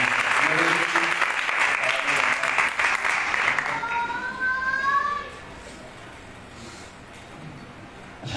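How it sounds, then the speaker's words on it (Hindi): A crowd at a live praise and worship gathering in Youhanabad, Lahore, applauds loudly and densely for about five seconds before the clapping fades into quieter room sound. "सब फालतू के लिए ताली भी बजाइए"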